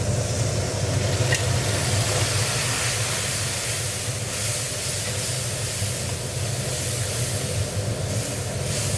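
Fish curry masala for a tilapia dish, cooked down in the pan with water, salt and spice powder, and stirred: a loud, constant hissing sizzle with a low bubbling rumble, and no speech.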